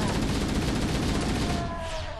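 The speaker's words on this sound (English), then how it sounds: "let's just shoot them then" Rapid automatic gunfire in Halo: Combat Evolved, a sustained loud burst of repeated shots that tapers slightly toward the end, with some faint voice underneath.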